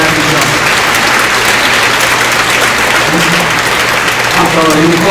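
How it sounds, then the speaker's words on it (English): A school Veterans Day assembly audience applauds the band, cadets and veterans in a hall, with steady, dense clapping held loud throughout and some voices and cheering mixed in. "give a round of applause to the band, the cadets, and the fellow veterans in this room one more time"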